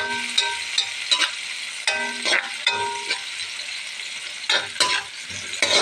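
Pancit noodles stirred and frying in a pan: steady close sizzle with repeated scraping stirs and utensil clicks at an uneven rhythm, no voices.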